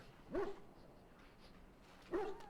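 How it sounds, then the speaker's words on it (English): A large dog barks twice at a game army camp in Dragon Age: Origins, one bark near the start and another about two seconds later, each short and fairly loud over a quiet background. "That is a big chonker dog"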